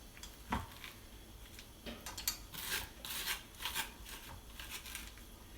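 A spoon scraping seeds and stringy pulp from the inside of a halved spaghetti squash, making repeated short rasping strokes in uneven bursts, close up and fairly quiet, with no speech.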